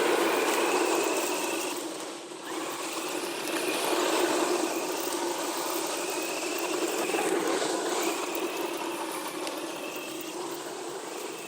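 A PXToys 9204E RC car drives over loose dirt, giving a steady, fairly loud whirring electric motor drone with gritty texture that holds throughout with slight swells.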